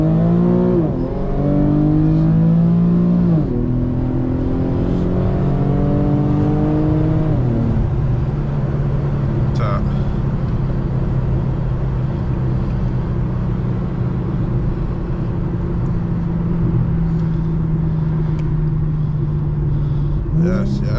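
Infiniti G37 engine revving loud and close, pitch sweeping up and dropping with downshifts early on, then holding a steady drone while cruising at night in Mexico, with a voice talking over it.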